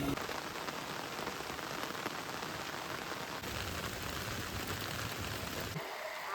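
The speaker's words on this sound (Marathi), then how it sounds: "पहिल्या पावसाचा आनंद घेतात." Heavy monsoon rain pours at a campsite, a dense, steady hiss of drops drumming on surfaces without letup, close and loud, dropping away only at the very end.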